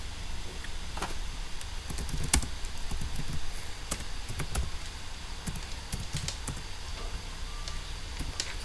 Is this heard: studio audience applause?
no